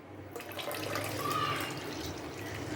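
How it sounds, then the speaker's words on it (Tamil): Tender coconut water pours in a steady, close stream into a pot of payasam, making a continuous splashing trickle that starts abruptly and keeps going. "எல்லா இளநீருமே சேர்த்தாச்சு."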